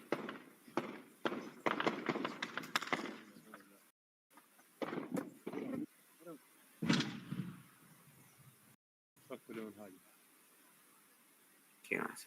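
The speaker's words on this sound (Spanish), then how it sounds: "Escuchan disparos de combatientes." Gunfire from fighters in Al-Fashir, Sudan: rapid bursts of sharp shots ring out early, then sporadic single cracks follow, separated by brief gaps, with voices speaking at points between the shots.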